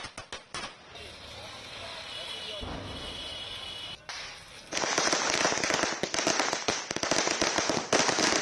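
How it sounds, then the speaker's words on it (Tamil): Diwali firecrackers burst in rapid, crackling volleys, loud and near, with a dense continuous barrage of pops building toward the end amid street noise. "பொதுமக்கள் உற்சாகத்துடன் பட்டாசு வெடித்து தீபாவளியை கொண்டாடினர்"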